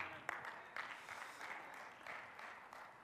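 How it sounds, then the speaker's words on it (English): An audience at a sermon on bitterness claps in a steady wash of applause that swells and dips over a few seconds, fairly close, with faint talk mixed in. "I don't know why y'all clapping for that one."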